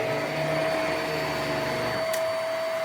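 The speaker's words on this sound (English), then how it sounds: "power button on to engage it with your foot. Makes a popping noise." Hoover MaxLife Pro Pet Swivel HEPA vacuum cleaner running steadily with a loud, close whine and motor hum, plus a brief click near the end.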